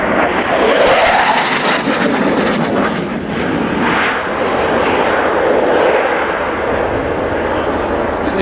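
Spanish Air Force Eurofighter EF2000 jet at an airshow accelerating with afterburners, a loud, continuous broadband roar that holds steady throughout, with a crowd and a commentator's voice faintly underneath.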